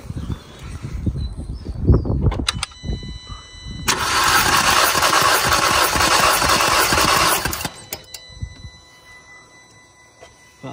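An Audi S3 8P engine cranks on the starter during a compression test, a steady loud whirring churn for about four seconds, set between scattered clanks and handling noises nearby.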